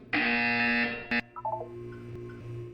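A loud, harsh buzzer in Portal 2 blares for about a second, cuts out, gives a brief second burst, then fades into a low hum with faint electronic blips.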